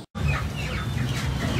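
Chickens cluck and squawk continuously at close range in a busy, noisy outdoor setting in a Philippine barangay, with no talking over them.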